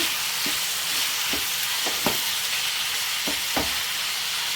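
Tomato masala for mushroom gravy frying in a pan, a continuous close sizzle with occasional spoon scrapes and knocks as it is stirred, no talk.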